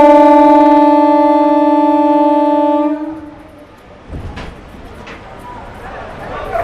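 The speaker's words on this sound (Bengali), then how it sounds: "ট্রেন এখন ফ্ল্যাগ অফ চলছে।" The Berhampore–Azimganj MEMU train sounds a long, loud, steady horn at the Berhampore Court station platform during its flag-off, then cuts out, leaving low rumble and scattered crowd noise.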